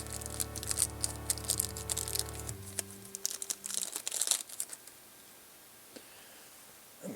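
A plastic bag holding a STEM speaker kit crinkles and crackles sharply as it is opened, in loud irregular bursts that thin out to occasional faint rustles. A steady tone underneath stops partway through.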